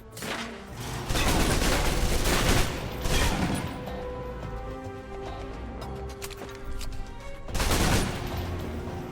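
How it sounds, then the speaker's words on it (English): Rapid submachine gun fire in the video game Alpha Protocol, loud close bursts in a cramped room that pause and then resume near the end, with a low game soundtrack droning underneath and no voices. "the SMGs can help clear the room quickly. Not subtle or quiet"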